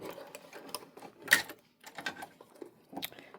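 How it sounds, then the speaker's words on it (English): A sewing machine topstitching along the edge of a small fabric storage bin, short bursts of quick mechanical stitching and clicks separated by brief pauses, close and fairly quiet. "Put this in our machine, and we're going to top stitch at the edge about a 1/8 inch seam."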